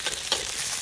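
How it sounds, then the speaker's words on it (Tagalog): Onion, garlic, ginger and shrimp sautéing for Filipino bihon guisado, a steady close sizzle of frying with a brief stirring scrape, short and continuous with no talk. "Igigisa-gisa po natin yan lahat at magluluto tayo ng bihon gisado"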